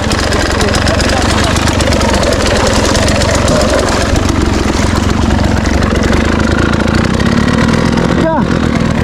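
An enduro motorcycle idles on a trail at Mt. Marami, a loud, steady engine rumble with wind-like noise throughout and voices faintly mixed in.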